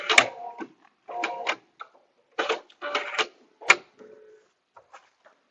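An embroidery machine stitches out a paper-pieced coaster and pitcher mat in short bursts of rapid mechanical clatter separated by pauses, close and clear, fading to faint ticks at the end.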